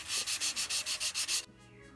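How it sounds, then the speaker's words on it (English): Rhythmic hand sanding of aircraft airframe parts, about nine quick rasping back-and-forth strokes close up, stopping abruptly into near silence. "my friend I employed for manual labor of sanding parts"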